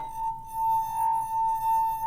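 A drinking glass holding water rings with a clear, steady pure tone after being struck, sustained for about two seconds with a slight swell in the middle, alone without talk.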